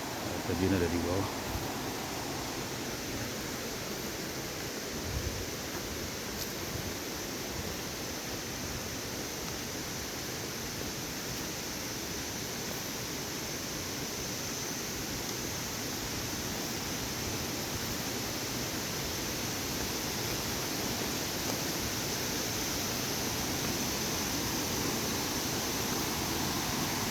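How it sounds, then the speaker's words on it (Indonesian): The Dua Undak waterfall at Camp Dam Cidahu rushes in a steady, broadband roar, constant and close throughout. "Tuh, kan suara air terjun. Air terjun Dua Undak."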